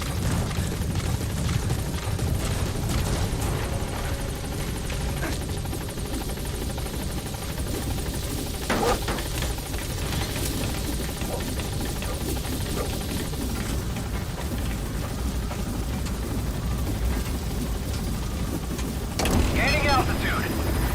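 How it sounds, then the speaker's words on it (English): Support helicopter in Metal Gear Solid V: The Phantom Pain arriving at the landing zone, a loud continuous rotor thrum and engine whine throughout, with radio voices heard over it. "Support helicopter has arrived."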